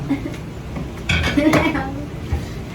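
Plates and dishes clatter and clink as they are handled in a home kitchen, a run of close, uneven knocks and scrapes with a louder burst midway, while voices talk faintly in the background.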